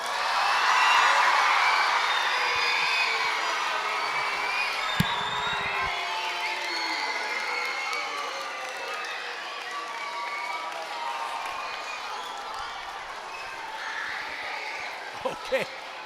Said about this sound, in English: let's have a big clap and a cheer